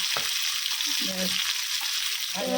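Onion paste sizzling in a pan, a dense, steady frying hiss with faint stirring scrapes and a brief murmur of voice.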